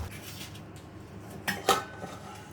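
Metal lid set onto a pot of Maggi noodles boiling on the stove: a couple of brief clanks close by over a quiet background, no voices.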